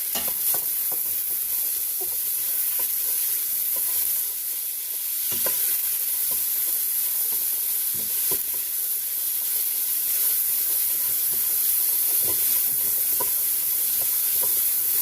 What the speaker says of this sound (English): as soon as we put the avocado oil in, we're going to dump in the onion. I'm going to stir it up.